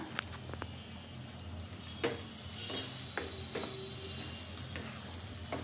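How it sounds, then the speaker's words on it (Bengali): Potatoes frying in a pan, a faint continuous sizzle with a few scattered clicks and taps of a utensil, quiet and close. "এখন আমি আলুগুলোকেও 2 মিনিট ফ্রাই করে নেব"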